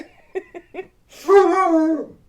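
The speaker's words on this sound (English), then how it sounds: "He's trying to start a howl" A dog gives three short, soft whining yips, then a longer rising-and-falling tonal howl that swells close and fairly loud before trailing off, with no one talking.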